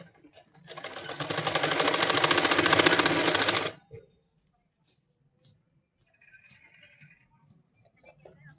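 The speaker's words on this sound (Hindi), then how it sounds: "इसमें म्यानी के ऊपर सिलाई लगानी है ऊपर से।" A sewing machine stitches a seam on a Patiala salwar in one fast, close whirring run of about three seconds, then stops into near quiet with faint handling sounds.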